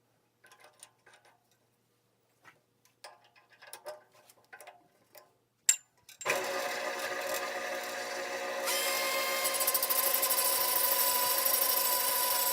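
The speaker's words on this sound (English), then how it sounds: "we move to the drill press and turn the bolt while we grind a bullet shape for the button" A steel bolt spins in a drill press while being ground to a bullet-shaped end, with a few scattered clicks and taps first, then a sudden loud, continuous grinding hiss that grows harsher partway through.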